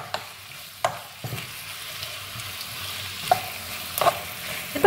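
Zucchini with turmeric stirred in a frying pan over a lively flame: a steady soft sizzle with several sharp scrapes and clacks of a spoon against the pan, close and alone.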